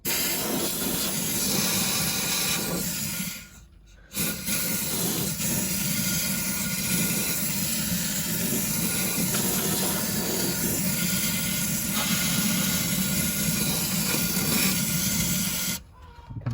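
A spray gun hisses continuously as it coats a car chassis with Waxoyl rust protection, a loud steady spray broken by two short pauses.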